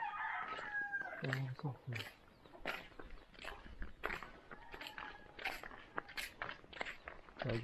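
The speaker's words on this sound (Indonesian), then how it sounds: "Ayam sini." Chickens, including a crowing rooster, in a village garden on Pulau Kawaluso island in Sangihe, Indonesia; calls sound close at the start, with footsteps, scattered clucks and people talking nearby.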